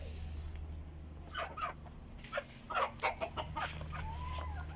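Backyard chickens clucking in short bursts, several nearby clucks clustered together over a steady low hum, with no talking.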